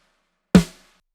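A single punchy snare drum hit, close-miked and dry, with a short decay, alone in silence.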